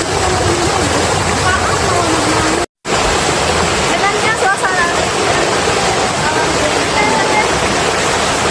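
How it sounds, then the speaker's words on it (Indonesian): Swift, heavy flow of the Cisarua river rushing loudly and continuously, a dense roar that fills the scene with only a momentary dropout partway through. "Oh, airnya sangat deras"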